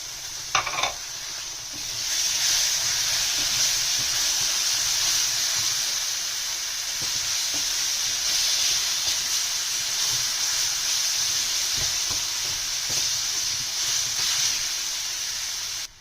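Tomato paste hits a hot pan for a dum aloo curry, giving a steady, loud sizzling hiss that runs almost the whole time, with a brief clatter of stirring near the start and no voices.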